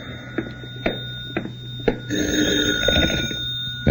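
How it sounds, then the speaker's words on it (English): An old-fashioned telephone bell ringing in a hotel room in a vintage radio drama, four sharp rings in steady rhythm over a low hum, followed by a rustling pickup, close and without talk. "the phone rang."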